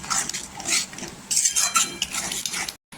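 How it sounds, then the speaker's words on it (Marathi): A spoon stirs and scrapes masala paste mixed with water in a pan, clinking against the metal in repeated quick strokes, loud and close. "पाणी टाकलेले ना छान असं मिक्स करून घ्यायचं"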